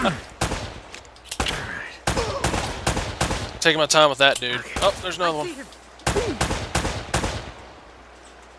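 Gunfire in the action video game Uncharted: Drake's Fortune, sharp loud shots cracking in irregular bursts and single blasts while someone comments over the action.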